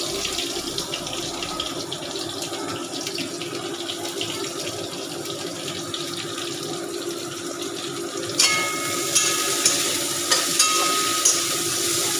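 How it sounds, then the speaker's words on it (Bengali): Sliced onions sizzle as they hit hot oil in a pan for a Bengali foli fish curry with new potatoes, a steady hiss jumping louder near the end with crackling spatter, no voices. "এবার আমি আমার যে পেঁয়াজ কাটাটা আছে সেটা দিয়ে দেবো।"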